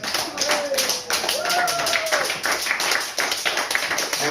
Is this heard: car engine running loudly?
no